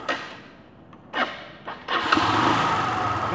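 A Kymco motorcycle engine fresh from a starter motor repair cranks in a few short bursts, then catches and settles into a steady close idle.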